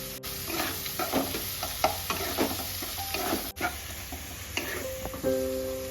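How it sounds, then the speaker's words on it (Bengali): Onions fry with a pinch of salt in a pan, a soft continuous sizzle with intermittent spoon stirs and scrapes, close-up and quiet, no voices. "পেঁয়াজটা একটু ভালো করে ভাজতে হবে।"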